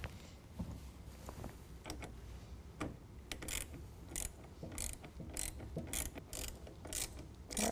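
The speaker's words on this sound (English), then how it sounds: "it's a T25 Torx bit that you're provided. We're going to go ahead and line that up and start running that in" A T25 Torx bit drives a self-tapping screw into the rail of a Retrax IX manual retractable tonneau cover on a 2021 Ford F-150, giving close, repeated ratchety clicks and mechanical ticks at an uneven rhythm.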